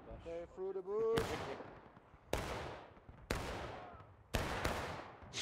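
Musket volleys in the video game War of Rights, four or five sharp loud cracks spaced about a second apart, each ringing out with a long decaying tail, after a brief spoken line at the start.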